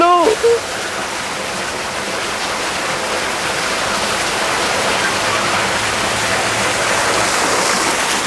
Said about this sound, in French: elle me fait éclabousser de l'eau